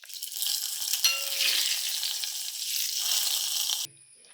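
Tempering sizzles hard in hot oil in a pan for a simple village-style curry, a dense, steady frying hiss with a stir clink partway through, cutting off abruptly near the end.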